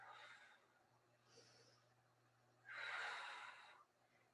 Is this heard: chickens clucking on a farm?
no